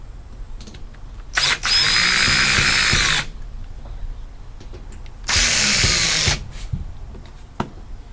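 A power drill drives screws into parts of a Chevy OBS Silverado truck during reassembly, two loud whirring bursts of about one and a half seconds each, separated by quieter handling noise.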